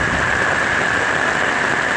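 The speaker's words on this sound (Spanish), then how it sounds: "Así llueve aquí de hermoso." Heavy rain pours onto the streets of a residential neighborhood on an afternoon, a loud, constant hiss that holds steady with a faint low rumble underneath.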